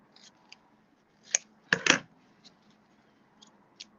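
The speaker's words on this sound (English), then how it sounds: "I'm just going to cut a little piece, big enough to cover just the basket" Scissors cut a small piece of covering material for a basket with a few quiet, crisp snips, including a quick double snip, among faint rustling in a quiet room.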